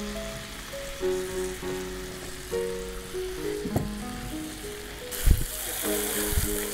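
Honey garlic chicken sizzles steadily in a pan after spring onion stalks go in, a continuous loud frying hiss with scattered crackles and a few sharp utensil knocks near the end, alone without talk.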